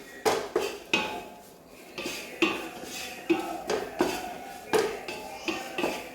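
Spoon scraping and clinking against a cooking pan as food with curry leaves is stirred, a steady series of close, fairly loud metallic strokes with no talk.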